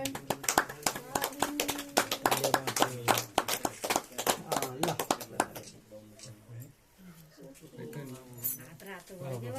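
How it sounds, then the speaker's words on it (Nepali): A group claps in steady rhythm along with singing of a devotional song, the claps dense and close for the first two-thirds before stopping while voices continue. "ल ताली है सबैले।"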